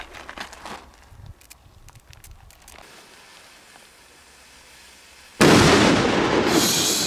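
Fireworks bought in Spain go off outdoors: a few scattered pops and bangs at first, then after a quiet stretch a loud sustained crackling burst of rapid blasts that carries on to the end.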